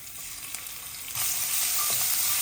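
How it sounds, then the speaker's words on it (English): A teaspoon of cumin seeds dropped into hot oil in a pan, starting as a quiet background hiss then jumping to a loud, steady crackling sizzle that continues close up without any talk. "I'm going to add a teaspoon of cumin seeds. Let them kind of sizzle up."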